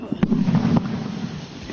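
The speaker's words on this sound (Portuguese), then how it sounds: "todos os participantes se deitam de bruços no chão, esperando a explosão" A grenade is thrown into a pit during military training while participants lie face down nearby. The blast comes as a short, muffled boom with a low rumble and a few sharp pops, fairly close.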